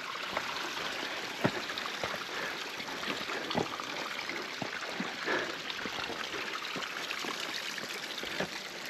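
Water rushes and trickles steadily over rocks, with occasional small splashes and knocks, no talking.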